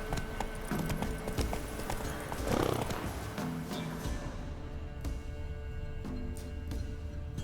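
Hoofbeats of a horse galloping in The Witcher 3 video game, a steady clip-clop rhythm running the whole stretch over a constant ambient bed, with a brief louder surge partway through and no talking.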